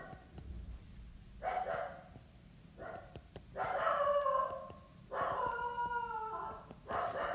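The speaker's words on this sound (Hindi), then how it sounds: "यार गली में इतने कुत्ते हो गए," Several street dogs bark and howl in long, drawn-out wails that rise and fall in overlapping bursts, fairly close and loud over a low background hum, with no talking.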